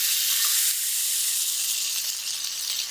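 Wagyu beef sizzles in a hot cast iron pan kept off the fire, a steady bright hiss of frying fat that fills the whole stretch, close and continuous with no talking.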